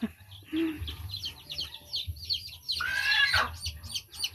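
Soft, repeated clucking of a hen near the microphone, mixed with bird chirps and a brief louder squawk partway through.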